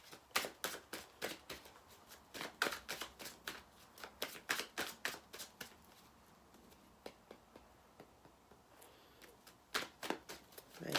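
A Rebel tarot deck is shuffled by hand, giving rapid, close card riffles and slaps in steady bursts that ease off briefly midway, then pick up again.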